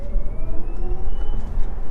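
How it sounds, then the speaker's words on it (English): A Tesla with a front electric motor gives off a high-pitched whine that slowly rises in pitch, heard over a loud, rumbling road and cabin noise while driving. "you can hear that like whine, and I feel like it's the front motor that you really hear in this car"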